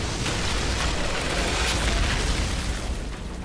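The Eruption fire skill from the Outriders video game detonates as a dense, roaring blast, loud and sustained for several seconds with rumbling bursts and no speech.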